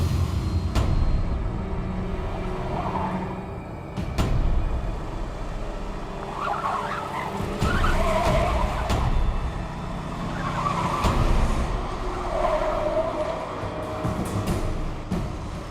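A car drives along a road with a loud, steady engine and road roar that swells and fades, plus a few sharp knocks along the way.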